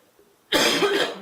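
A single harsh, loud cough from a person with sinusitis bursts out after a short quiet stretch and rings on briefly, close to the listener.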